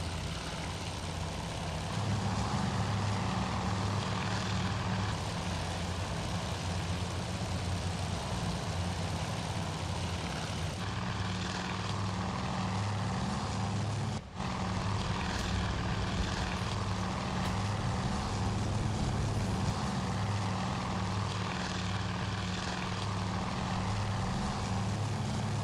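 Propeller aircraft engines from the naval strategy game Task Force Admiral drone steadily and loudly throughout, a dense rumbling hum with a low throbbing pulse and one brief dip midway.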